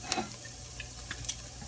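Salt, garam masala and other dry spices are stirred into aromatics frying in a pan for a homemade vegetable samosa filling. A steady, close sizzle runs throughout, with a few light spoon scrapes and ticks on top.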